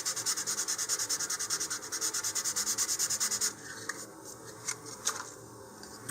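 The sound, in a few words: sanding, roughing up a model rocket's launch lug line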